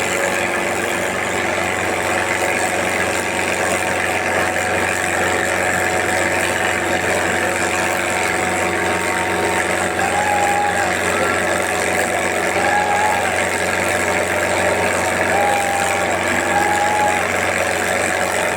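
Tractor engines run during a tractor race at a village festival, a continuous droning rumble with a faint voice in the background and a few brief whistling tones.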